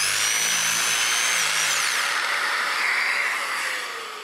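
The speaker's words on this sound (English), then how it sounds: "The sandpaper is here simply placed on the stick fix system so that I can sand out the rabbet here." A Festool sander with stick-fix sandpaper sanding out a rabbet in clamped wood, a loud continuous whining motor hiss that holds steady and then winds down at the end.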